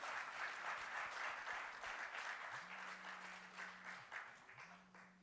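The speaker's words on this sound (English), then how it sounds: "A round of applause, please." An audience at a school science edutainment event claps in steady, dense applause that carries on throughout, with a faint low tone sweeping in partway through.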